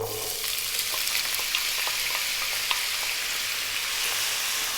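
Small-cut potatoes frying in hot oil over high heat for an aloo keema, a steady close sizzle with scattered crackles and pops throughout, no voices.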